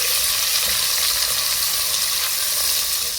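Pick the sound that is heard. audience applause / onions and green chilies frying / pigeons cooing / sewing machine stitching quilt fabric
onions and green chilies frying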